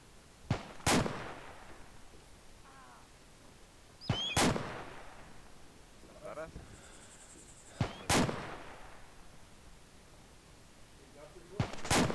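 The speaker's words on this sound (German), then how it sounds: "Südliche Wand kommen die Schüsse." Sharp, loud gunshots ring out in an ArmA 2 urban-combat training session, arriving as single cracks or close pairs spaced a few seconds apart, with brief echoing tails and quiet radio-style talk between them.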